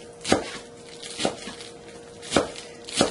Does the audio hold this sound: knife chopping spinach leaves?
yes